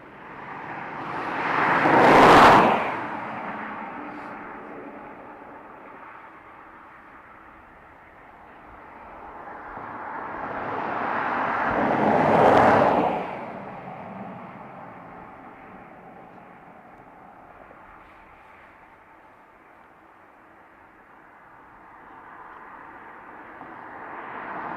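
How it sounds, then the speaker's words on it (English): Antonov AN-124 cargo aircraft departing Dublin Airport, heard as a broad jet roar that swells twice to loud peaks a few seconds into each half, then fades and rises again, steady and distant in between. "we'll get the Antonov departing as well"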